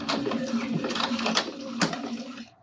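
Sewing machine stitching a thick seam at the start of a fabric pouch, a close whirring run of rapid needle strokes with a couple of sharp clicks, stopping abruptly at the end.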